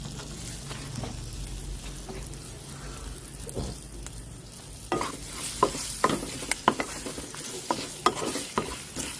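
Slit green chillies frying in a pan of oil, a close, continuous crackling sizzle that grows busier midway with repeated stirring clatters and pops, without any talking.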